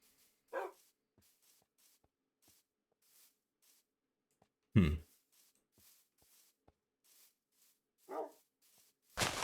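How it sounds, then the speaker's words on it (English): A dog named Dwayneson barks in a few isolated loud bursts spread across a mostly quiet stretch, with short gaps of near silence between them. "He's a great dog."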